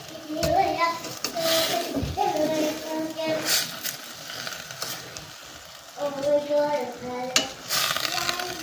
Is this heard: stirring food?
yes